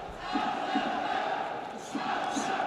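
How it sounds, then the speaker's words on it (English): A fight crowd in Krasnodar cheers and chants for Kerefov during a bout. A rhythmic rising roar comes in repeated bursts from a large arena audience. "The crowd here in Krasnodar trying to put some wind in the sails of Kerefov."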